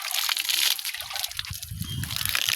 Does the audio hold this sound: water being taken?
yes